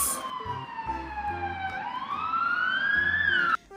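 An ambulance siren wails with a sweeping, wavering pitch that dips and rises, loud and close over a low pulsing background.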